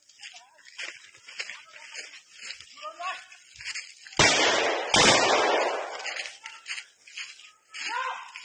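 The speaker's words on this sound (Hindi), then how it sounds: "जंगल के बीच अचानक ही गोलियां बरसने लगी।" Gunfire during an armed encounter with Naxalites in a jungle near Kanker: two loud sharp bursts of shots crack out close by amid excited shouting voices.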